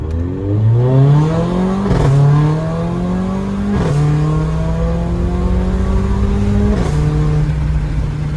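A remapped Mercedes-AMG GLA45 with a downpipe, stage one tune, accelerates hard on a road, its loud engine climbing through revs with three sharp gear-shift dips and no talking.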